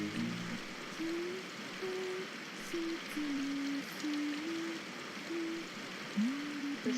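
Steady rain falls in the visual novel game Symphonic Rain, a constant soft patter under a gentle melodic tune played over it.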